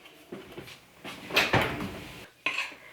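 A metal cookie sheet is handled in a kitchen while baking whoopie pies, with a few light metallic clanks and scrapes, one louder rattle in the middle, and a final knock.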